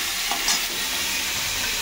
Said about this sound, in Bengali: এখন পটল ভাজা হচ্ছে।